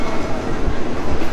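Rumbling of a train at a Thai railway station fills the short moment, a dense low, steady rolling sound with no clear speech.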